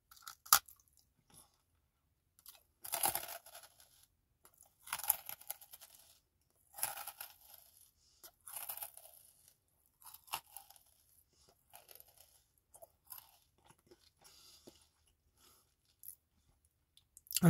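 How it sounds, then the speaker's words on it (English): Slow, deliberate crunching of a garlic herb crostini close to the mic, with separate crisp bites and chews spaced a second or two apart amid quiet pauses. "Let's do a slow crunch."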